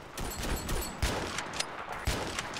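Shotgun blasts in the game Ravenfield, several sharp booming shots spaced irregularly over a continuous noisy battle backdrop.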